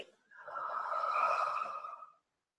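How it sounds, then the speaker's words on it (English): A long, steady exhale during a guided meditation breathing exercise, soft and airy, about two seconds, close and alone with no talk. "Just clear that emotional body with your breath and exhale"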